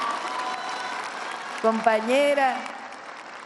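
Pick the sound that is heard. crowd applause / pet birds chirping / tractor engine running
crowd applause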